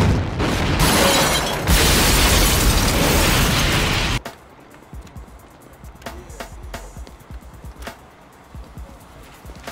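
A bomb explosion in a movie scene: a loud, roaring blast with crackling debris fills the first few seconds, then drops to a quieter rumbling aftermath with scattered thuds.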